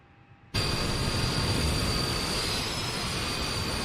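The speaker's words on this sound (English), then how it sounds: "Engine number 2 is coming on." Airliner jet engine number two spooling up during a start in a flight simulator game, a sudden loud broadband roar with a steady high whine that holds on without voices.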